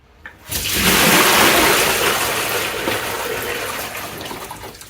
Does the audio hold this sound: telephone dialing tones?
no